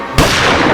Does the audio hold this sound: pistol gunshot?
yes